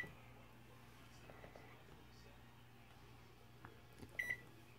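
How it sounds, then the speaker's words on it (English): A microwave oven heating a bowl of cereal gives a low, steady hum with a faint whirr, then a couple of sharp electronic beeps near the end. "right now, I'm gonna microwave it"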